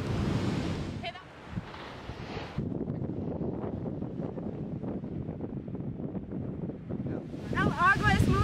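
Ocean waves on a cloudy beach in Guatemala, a continuous rolling wash of surf, loud and close, mixed with wind rumble on the microphone.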